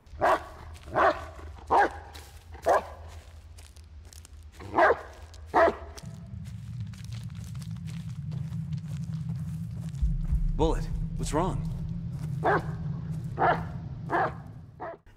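A companion dog in the Blair Witch video game gives a series of sharp barks, spaced irregularly, alongside footsteps, low game ambience and an underlying hum, with a voice talking at times.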